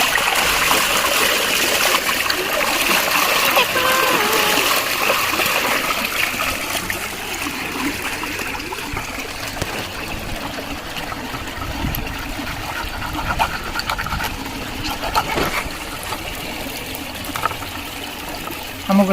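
Running water from a tap splashes steadily over raw chicken pieces as they are washed in a kitchen, a continuous close gush with small splatters and shifting flow, with no one talking.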